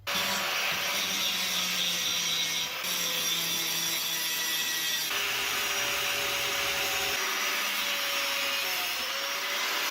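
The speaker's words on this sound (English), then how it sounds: "grind off the scale, cut it in half" Forged steel is ground clean of scale and then cut in half, producing a continuous loud abrasive whir with shifting pitch as the tool bears into the metal, without any talking.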